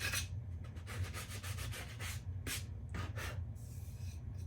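Wood front door decor sanded by hand, soft faint rubbing strokes in an irregular back-and-forth rhythm, with quiet pauses between passes.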